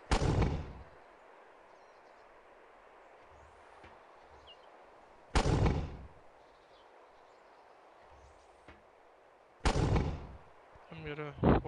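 Mortar rounds in a video game fire or hit in three loud, booming blasts several seconds apart. Each blast fades into a low rumble, with faint mechanical clicks in between and a sharper clatter at the end.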